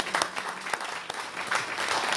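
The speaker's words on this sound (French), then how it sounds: "Est-ce qu'on peut encore acclamer pour les mariés?" A wedding audience applauds and cheers for the newlyweds, a steady wash of clapping from a crowd that swells and holds for a couple of seconds, with no voices over it.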